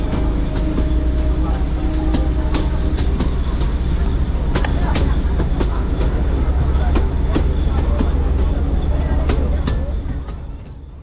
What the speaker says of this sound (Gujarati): ગામડાઓમાંથી પસાર થતી આ ટ્રેન તમે જોઈ રહ્યા છો